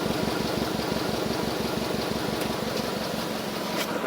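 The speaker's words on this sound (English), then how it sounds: "Here's the sound of the side that's got the muffler on it." A car engine idles steadily on the exhaust side fitted with a new homemade muffler, giving a soft, even, low pulsing rumble heard close up without voices.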